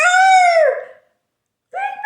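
A storyteller imitates a rooster crowing with her voice, two loud, close crows with a pitch that rises then falls, the second cut short after a brief pause.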